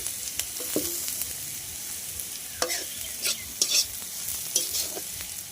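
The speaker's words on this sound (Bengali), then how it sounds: "এভাবে দেখো নাড়াতে নাড়াতে অনেকটা বোঝা যাচ্ছে ভাজা হয়ে গিয়েছে।" Food fries in a pan as a spatula stirs it, a continuous close sizzle punctuated by several sharp metallic scrapes and clinks at irregular intervals, with no one speaking.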